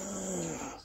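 A puppy lets out a short, steady, low growl, close and fairly loud, fading slightly at the end, with no talking.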